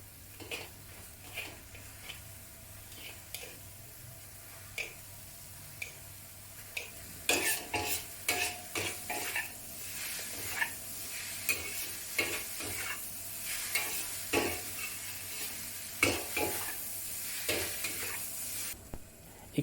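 Vegetable and mushroom noodles stir-frying in sauce, tossed with chopsticks: steady sizzle under repeated clattering stirs and utensil knocks against the pan, growing busier and louder partway through.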